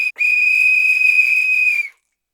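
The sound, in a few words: Kasperli's whistle blown to wake the gatekeeper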